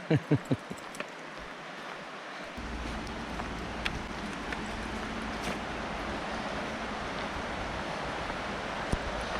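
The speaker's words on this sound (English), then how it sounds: "I hear waterfalls." Rushing water at Hoh Oxbow campground in Washington's rainforest, a steady broad roar filling the scene after a few brief thumps at the start, with faint wind and occasional small knocks over it.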